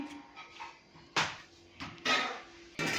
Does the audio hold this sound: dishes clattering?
yes